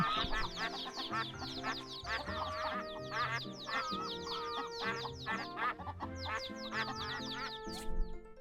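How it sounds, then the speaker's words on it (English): Chickens on a farm in the video game My Time At Portia cluck and squawk in quick, overlapping bursts over a layered game music backdrop, busy and fairly loud throughout. "Hello, chickens."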